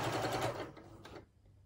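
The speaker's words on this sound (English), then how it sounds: "so I can have some nice pink overlocking inside my neck band" An overlocker runs fast stitching pink thread along the neck band of a red dress, a close, whirring mechanical chatter that runs for about a second and then cuts off to quiet.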